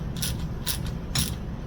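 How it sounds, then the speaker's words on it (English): A clamp being fitted onto the breather hose of a Toro Recycler lawn mower, three short metallic clicking snaps spaced evenly over a low steady background, close and with no talking. "So get the clamp on there."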